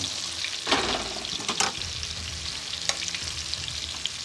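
Breaded shrimp deep-frying in oil heated to 375 °F, a fairly quiet, continuous bubbling hiss with a few brief louder crackles and clatters, no talking.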